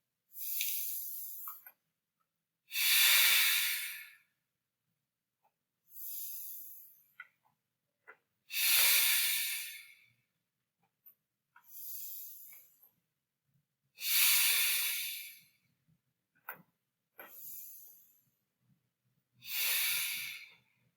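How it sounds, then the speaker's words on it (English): Slow restorative yoga breathing, in through the nose and out through the mouth: seven long airy breaths, each a soft swelling hiss a second or two long, close and clear, with quiet pauses between them and no talking. "inhale through the nose and exhale through the mouth"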